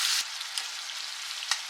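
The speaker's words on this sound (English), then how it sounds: "so oil is hot, so I'm going to start frying this chicken." Chicken frying in hot oil for homemade butter chicken (murgh makhani) gives a steady, close hiss and sizzle with small crackling pops. There is no talking.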